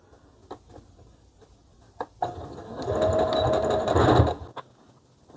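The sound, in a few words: sewing machine topstitching along the fabric edge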